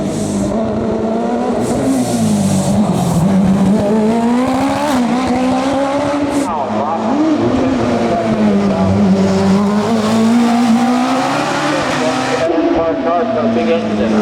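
A race car with a big engine powers up the Prescott hillclimb course, its loud engine note rising and falling through gear changes and corners under continuous commentary.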